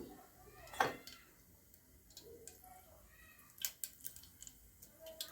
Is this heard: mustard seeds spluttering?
yes